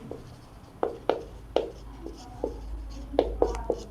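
A pen writes on paper during a maths lesson, making a short run of soft, close scratching strokes in quick uneven bursts, with a faint hum behind them and no voices.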